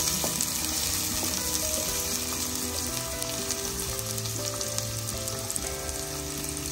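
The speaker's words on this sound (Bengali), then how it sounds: "পেঁয়াজ গোল্ডেন ব্রাউন করে ভেজে নেবে" Onions sizzle steadily in hot oil, a dense crackling hiss that continues without a break, close and fairly loud, with no voices.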